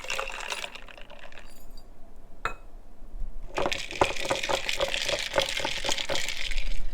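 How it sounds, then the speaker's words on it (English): Piping hot coffee poured over ice cubes and milk in a glass, a liquid splashing and trickling that starts after a brief click and continues steadily, close and moderately loud. "here's an aesthetic shot of pouring piping hot coffee on some ice cubes and milk."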